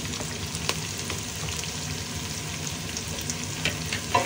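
Plenty of onions fry in a pan as the base for pork dinuguan, giving a steady close crackling sizzle with occasional stirring clicks and no talk.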